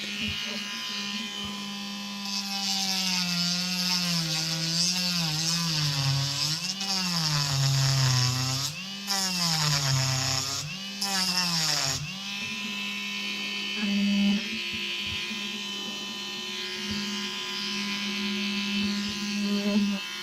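A small power tool trims excess plastic from a Ma.K SAFS model kit part with a buzzing, high motor whine that wavers in pitch as it bites into the plastic, then settles into a steadier drone toward the end.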